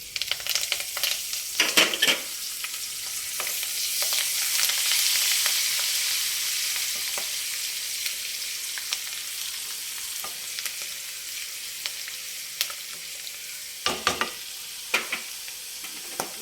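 Green chillies, onion and curry leaves sizzle and fry in a pan for a mango-prawn curry, a steady crackling hiss punctuated by several sharp scraping stirs of a spoon.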